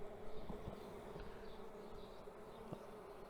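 Honey bees hum in a swarm box, a soft, continuous buzzing drone from many insects close by, with faint handling knocks and no speech.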